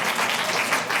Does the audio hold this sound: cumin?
no